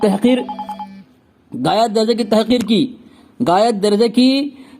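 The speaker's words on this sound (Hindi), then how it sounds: "एक फोन आ रहा है" A telephone rings in short repeating electronic bursts, then a voice starts talking over a second ring, with the ringing continuing between phrases.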